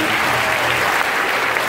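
An audience at a school spring pops ensemble concert gives steady, dense applause that stays even and full throughout, with no voices standing out.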